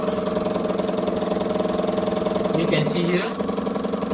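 A small model marine propulsion engine runs steadily at 20% load, giving a constant mid-pitched engine drone with a faint rise in pitch near the end, while someone talks over it.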